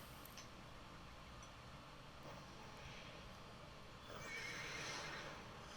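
A horse whinnies in the game Mythgard Adventures over a steady, dense background of game ambience, the call rising briefly near the end without any talking.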